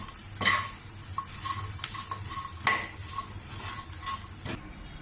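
Ivy gourd fry being stirred with chili powder in a pan: repeated scraping strokes of a spoon against the pan over a steady light sizzle, close and alone, with no voices.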